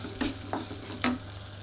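Onion, tomato, garlic and dried red chillies fry in a pan for radish chutney, a low steady sizzle broken by three distinct scraping stirs of a spoon, with no voices.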